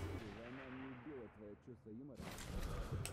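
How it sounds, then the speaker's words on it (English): Gunfire in the video game Sniper Elite V2: a sharp loud burst near the end, after someone talks over a low background rumble. "I'm getting shot at all right."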